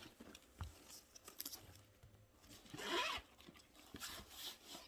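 A quick zipper pull rasps open near the mic on a Coach Dempsey tote bag, surrounded by soft rustling and handling of the bag.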